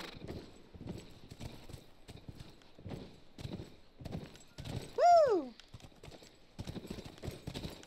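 Horse hooves clip-clopping in a steady galloping rhythm in the video game The Last of Us, with a short loud whinny midway and faint sounds between the hoofbeats.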